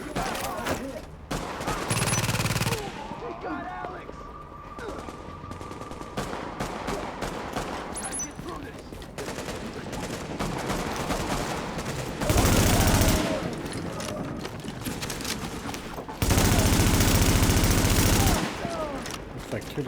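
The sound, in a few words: gunshots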